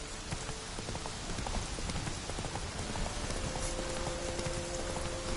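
Roach, a horse in The Witcher 3, trotting with steady clip-clop hoofbeats in a quick even rhythm, moderately close, over a constant rain-like background hiss.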